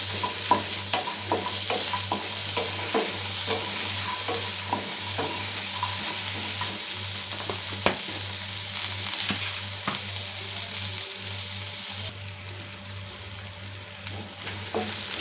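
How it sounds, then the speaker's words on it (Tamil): Masala for mutton gravy sautés in coconut oil in a pan, a dense, continuous sizzle with frequent scraping stirs of a spatula, close and steady, accompanied by a low background hum and no talk. "இப்போ இதை நல்லா வதக்கி விட்டுக்கலாம்."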